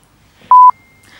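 Mobile phone gives one short, clear electronic tone lasting about a fifth of a second, loud and close in an otherwise quiet room.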